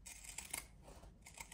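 Scissors cut through felt for a small handbag, giving a few quiet, crisp snips close to the microphone with no talking.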